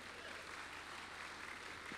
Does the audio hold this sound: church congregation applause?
yes